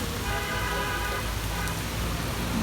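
Steady rain pours onto a city street in Rajarbagh, Dhaka, a constant dense hiss with soft spattering and a faint background hum, no voices over it.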